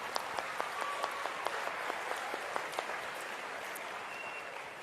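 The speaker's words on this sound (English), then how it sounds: "Big round of applause to you guys." Audience applause at a wealth-sharing meeting speech, a steady wash of many hands clapping with a few sharper claps standing out, sustained and even at moderate distance.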